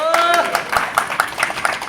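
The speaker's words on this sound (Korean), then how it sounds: "우리가 우리 자신에게 박수를 보냅니다." Sanitation workers at a union rally clap for themselves in rhythmic, evenly spaced claps after a trailing voice, the beats sharp and close against a busy outdoor background.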